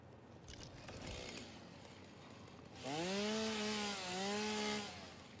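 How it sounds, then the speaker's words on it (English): Chainsaw cutting through an obstacle in the video game Satisfactory, a loud buzzing whine that starts abruptly midway, dips briefly and holds steady, following quieter ambient game noise. "This we can just take out with a chainsaw."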